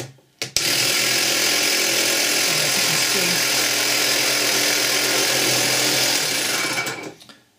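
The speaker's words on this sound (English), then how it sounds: "The motor still works." A 12-volt MVP air compressor's small motor buzzes loudly and steadily for several seconds after a click, then winds down at the end.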